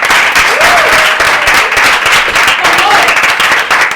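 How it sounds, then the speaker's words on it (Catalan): Audience applause for a performer named Martí at a Christmas special show, steady dense clapping filling the whole stretch with some faint voices mixed in. "Molt bé, un bon aplaudiment, Martí"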